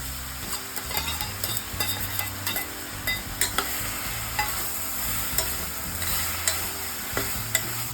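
Snake gourd being sautéed in a pan, a continuous soft sizzle under repeated spoon strokes that scrape and tap against the pan, close and steady.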